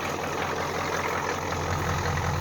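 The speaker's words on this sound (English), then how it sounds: "that goofy idle to her, you know she's cold, because this truck always does it when she's really, really cold" A 1989 Ford F450 truck with a 7.3 diesel idles cold, giving a steady, moderately quiet rumble with an uneven, lumpy knock in the background and no voices over it.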